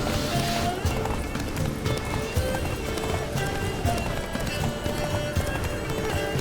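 A horse gallops in The Witcher 3: Blood and Wine, its hooves pounding in a fast, steady rhythm. A constant bed of game sound and music runs underneath.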